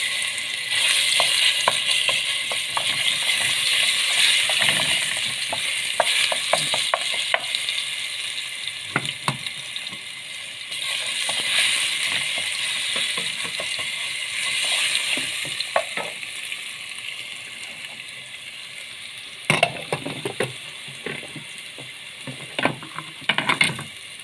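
Garlic sizzling in hot oil in a pot for Egyptian koshari, a continuous close frying hiss broken by scraping clinks of a spoon stirring against the pan, no voices.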